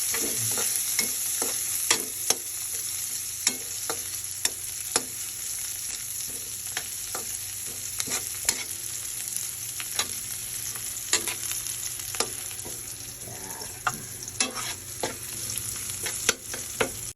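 Chili, onion and garlic sauté in a hot pan, giving a steady close sizzle broken by repeated scraping stirs that come at an irregular pace, with no voices.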